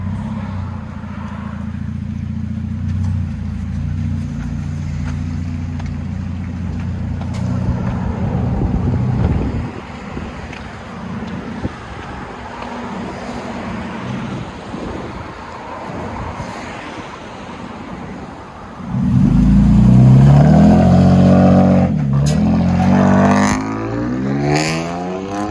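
A Toyota Tacoma pickup with a very loud aftermarket exhaust idles with a deep rumble, settles lower through the middle, then is revved hard, its pitch climbing and falling in roaring sweeps near the end; no talking.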